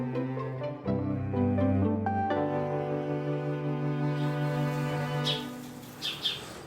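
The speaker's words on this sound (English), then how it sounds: "I can see the bird now sitting on the electrical wire outside my window" Birds chirp and call outside a window, a mix of clear tonal calls and short tweets, fairly close and prominent with no talking.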